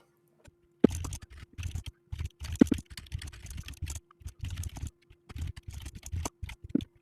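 Rapid typing on a computer keyboard, bursts of clicking keystrokes with short pauses between, close and clear with no voices.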